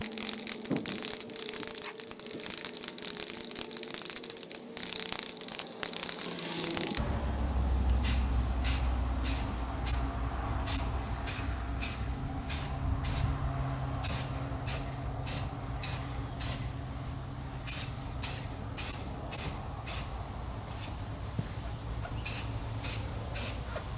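Aerosol spray can misting clear coat onto a car headlight: a steady broad hiss at first, then a long run of short repeated spray bursts, close and fairly loud, with no voices.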